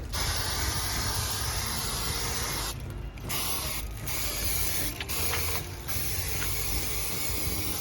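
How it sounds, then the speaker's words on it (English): A continuous, steady hiss of aerosol cooking spray coating a chicken for smoking runs almost the whole time, with a few brief pauses in the spray. "Give it a good bath in cooking spray."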